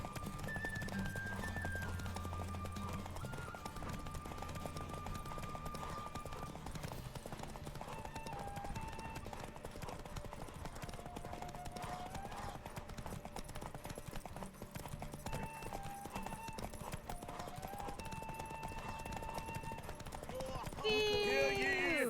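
A horse gallops in a derby race in The Witcher 3 video game. The rapid hoofbeats continue steadily throughout, with a voice talking over them.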